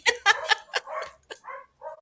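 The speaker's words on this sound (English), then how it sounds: "Let me let the dogs finish barking." Dogs bark nearby in a quick series of sharp yaps, about eight short bursts spread over two seconds, the last few softer and more whiny.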